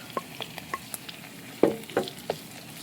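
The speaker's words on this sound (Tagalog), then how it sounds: "gisahin lang mga kajuit hanggang sa ito ay maluto. At saka natin ilalagay itong kamatis" Kajuit sautéed with tomatoes in a pan gives a soft frying sizzle under repeated light scraping and tapping stirs, a couple of louder knocks near the end.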